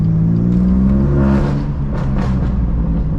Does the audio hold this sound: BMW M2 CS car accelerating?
yes